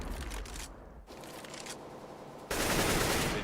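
Gunfire in Counter-Strike: Global Offensive, dense bursts of rapid shots with brief gaps, ending in a louder sustained barrage, with no talk over it.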